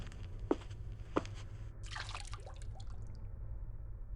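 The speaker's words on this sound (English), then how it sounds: "I was suddenly distracted by the sound of dripping water nearby." Water dripping in the Corpse Party: Book of Shadows video game, two distinct single drops about half a second apart, then a brief splashy trickle over a low ambient hum, close and fairly quiet.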